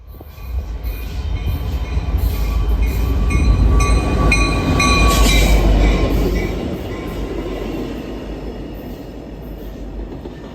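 An unmarked delivery train bound for the government of Canada rolls past loudly, steady wheel rumble and rail clatter with high metallic squeals swelling in the middle, then easing off.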